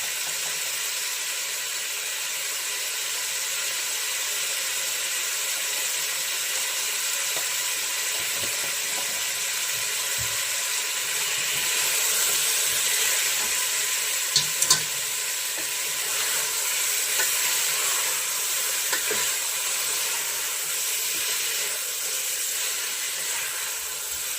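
Chicken biryani masala with turmeric powder fries in a pan with a loud, continuous sizzle and hiss, broken by occasional scrapes of stirring, close and steady throughout with no talking.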